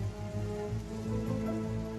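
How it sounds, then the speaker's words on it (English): Soft, steady rain falls over a low, continuous hum, faint and close, with no talking. "The rain had made the tracks more wobbly than ever."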